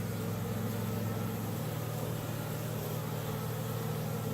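A steady, low droning buzz of honey bees at an apiary in Nova Scotia on a warm November day, continuous and fairly faint, with no voices.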